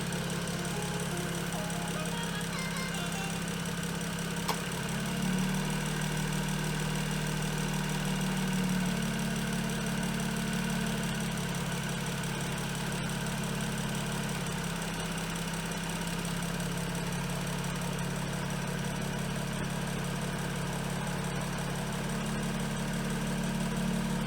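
A BMW N55 F30 M Sport sits idling with a steady low engine drone while the replacement radiator fan spins up around midway, adding a louder broad whoosh that holds steady, no talk.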